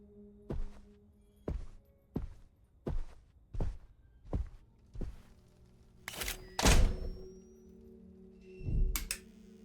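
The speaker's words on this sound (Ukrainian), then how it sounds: "нащо ти гупаєш дверми?" A door is banged again and again indoors, giving a series of about eight sharp, hollow thuds spaced roughly evenly, followed by a couple of louder slams near the end.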